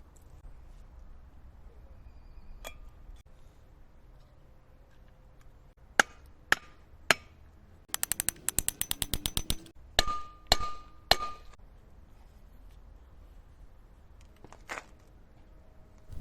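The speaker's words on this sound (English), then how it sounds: "install the seal behind it using a seal driver" A wheel bearing seal is driven into a brake rotor hub with a seal driver, giving sharp isolated metallic taps and then a quick burst of rapid hammer strikes, followed by a few more blows, in a quiet workshop.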